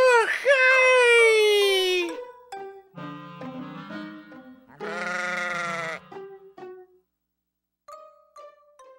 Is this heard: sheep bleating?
yes